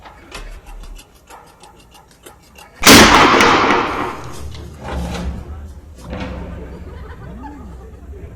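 A single loud revolver gunshot rings out in a Hindi film shootout, a sharp broadband crack with a long decaying tail, preceded and followed by quieter room sounds and faint movement.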